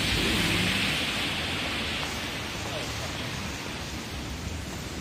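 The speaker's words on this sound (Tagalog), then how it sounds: "Lakas talaga ng ulan." Heavy rain pours down during a typhoon, a dense, loud, continuous hiss of downpour that stays constant throughout, with no clear voices standing out.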